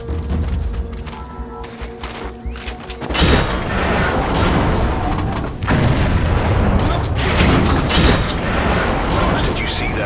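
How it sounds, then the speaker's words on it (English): A vehicle crash and explosion in Metal Gear Solid 5: The Phantom Pain, a heavy boom at about three seconds followed by a sustained rumbling, crackling roar with a second surge of impacts later, loud and close. "did you see that explosion?"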